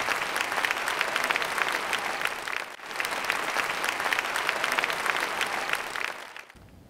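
A crowd at an Independence Day special debate event in Tamil Nadu claps in a loud, dense burst lasting several seconds, dipping briefly midway, then picking up again before fading out at the end.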